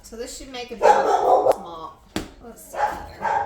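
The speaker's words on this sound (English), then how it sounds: "oh, sorry about the dog" A dog barks a few times in a home kitchen while sourdough pretzel dough is rolled into ropes, the yips mixed in with a person talking close by.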